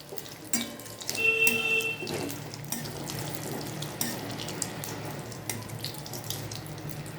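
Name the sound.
dried red chillies and bay leaf frying in oil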